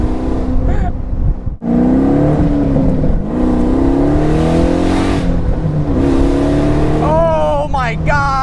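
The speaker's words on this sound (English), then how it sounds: "Who the hell takes a Pontiac Slowstice and puts an LS3 in it?" A 700 hp Pontiac Solstice with a swapped LS3 V8 roars loudly and continuously as it accelerates hard, the engine note rising and shifting through gears up close.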